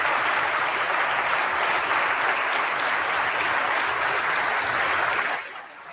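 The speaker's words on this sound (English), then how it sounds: "I agree with the applause." Crowd applause, loud and dense, sustained for several seconds and then cutting off abruptly near the end, with no speech over it.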